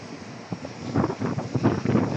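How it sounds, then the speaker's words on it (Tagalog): Strong outdoor wind at a spot where animals are being fed, heard as a low rumbling buffet on the microphone that swells in gusts toward the end, with no talking. "Lakas ng hangin ngayon."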